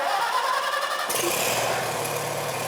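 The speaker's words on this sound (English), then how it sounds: "I'm ready to start the tractor." A Farmall tractor's engine cranks over and catches about a second in, switching from a starter whine to a steady, loud running rumble close to the microphone.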